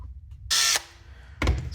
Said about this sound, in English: we're gonna drill it a little bigger.